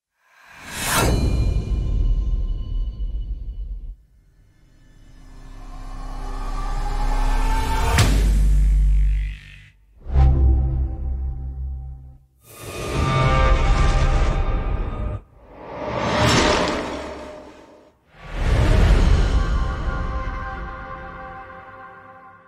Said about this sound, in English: Then let's listen to some of the whooshes.